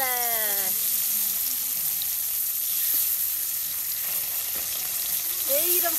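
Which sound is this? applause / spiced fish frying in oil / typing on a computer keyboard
spiced fish frying in oil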